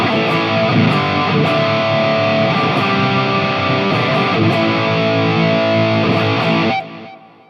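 Heavily distorted electric guitar through a Fractal AM4 amp modeler preset plays thick sustained chords and notes, loud and continuous, then cuts off and rings out briefly at the end.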